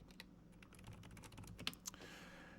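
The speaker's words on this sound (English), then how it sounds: "if I could type" Quick, faint keystrokes on a computer keyboard, a short irregular burst of clicking with a couple of sharper taps near the end, heard alone with no talking.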